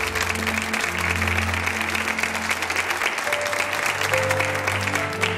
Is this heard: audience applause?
yes